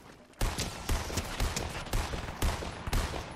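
Gunfire in Fortnite, a rapid run of loud, close shots at an even rhythm, about seven heavy blasts in a few seconds.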